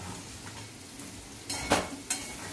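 Yam poriyal being stirred in a pan, a few brief scraping clatters and a soft sizzle rising over a quiet frying hiss, close and alone.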